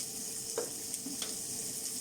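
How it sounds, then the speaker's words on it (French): Onions and carrots sizzle in a frying pan, a steady close crackle with a few soft clinks from stirring. "dès que vous entendez que ça grésille comme ça, c'est que c'est bon."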